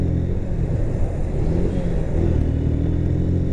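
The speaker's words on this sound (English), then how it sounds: "right now I'm revving the bike" A 2017 Honda Hornet 160 motorcycle engine revs nearby, a continuous rumbling drone that rises and falls slightly, with no speech.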